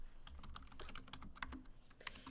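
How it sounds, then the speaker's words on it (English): Fingers tap rapidly and unevenly on a computer keyboard while entering a scale value into drafting software for a basic site plan, the clicks fairly quiet and close with no voices. "it's as easy as typing that in and hitting enter"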